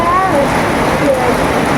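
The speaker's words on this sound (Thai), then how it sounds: "พอได้ยินน้ำเด้อฝนตก" Rain falls steadily in a rural Thai village setting, a dense continuous hiss of drops at an even level throughout, with faint tonal sounds drifting in the background.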